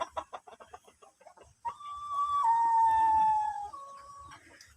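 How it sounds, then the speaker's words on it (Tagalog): Rhode Island Red and Basilan crossbreed roosters in a farmyard give a long, loud drawn-out call after a run of quick clucks, close to the listener, with no talk over it. "Dami kong mga rooster at kino-crossbred ko sila sa, ano, sa basilan na mga manok."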